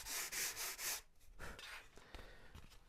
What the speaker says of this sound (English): I got a little bit of sanding to do